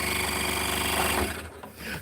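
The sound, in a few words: scroll saw cutting wood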